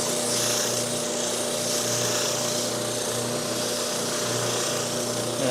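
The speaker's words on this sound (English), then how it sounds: "the more contact you have between the spindle and the wood for the profile you're working on" Spindle sander shaping a torrified birdseye wood dovetail saw handle, a steady close mechanical whir with a constant motor hum and a continuous rubbing, grinding texture throughout, no speech.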